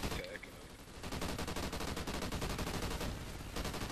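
Automatic weapon fire in the video game Call of Duty Extinction, a dense, loud, steady burst of rapid shots that runs almost the entire time.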